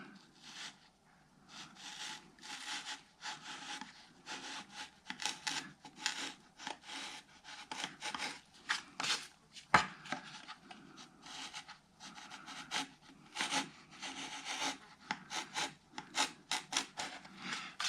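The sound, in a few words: chisel carving wooden acoustic guitar top braces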